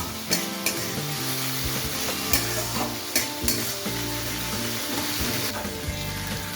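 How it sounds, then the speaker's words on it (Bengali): Ginger, garlic and green chilli frying in oil for a fish recipe, a close, even sizzle broken by several sharp clinks and scrapes of stirring, with no voices. "আদা রসুন আর কাঁচা লঙ্কাটাকে খানিকক্ষণ সময় নিয়ে একটু ভেজে নেব"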